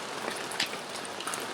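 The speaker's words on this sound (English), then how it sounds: "Just taking a rest from the hail that's pretty aggressive." Hail pelts the ground and gear during a mountain hike near Comapedrosa in Andorra, a dense, continuous patter with scattered sharper impacts and no voices.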